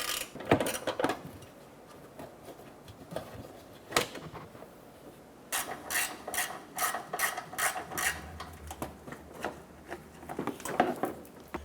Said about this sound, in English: Using a 7mm socket, we want to go ahead and remove this little bolt on the inside